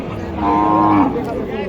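Cattle at a Bangladeshi livestock market in Naogaon, with one loud, drawn-out moo lasting about half a second close by, over steady crowd murmur.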